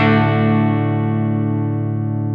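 An electric guitar chord rings through a Sonicake Matribox 2 preset that is just starting to break up, a single sustained fizzy, lightly distorted strum decaying slowly on its own.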